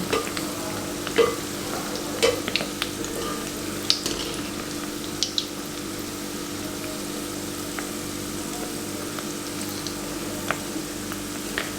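Gulkand gulab jamun frying in hot oil make a steady, close sizzle with occasional small pops and clicks throughout, and no one talks.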